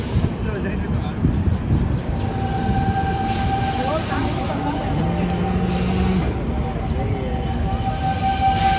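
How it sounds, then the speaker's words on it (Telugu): A passenger train travelling from Puttaparthi to Bengaluru in India rumbles steadily along the tracks with a high metallic wheel squeal, heard from inside, with faint voices in the background. "ట్రైన్ అయితే వెళ్తుంది"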